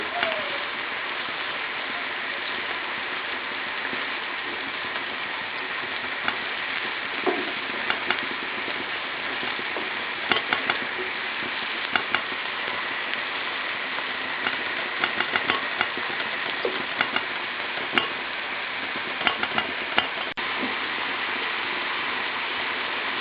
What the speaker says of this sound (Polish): Do zrumienionej cebuli wsypujemy jedną czubatą łyżkę mąki pszennej. Smażymy na lekko złoty kolor.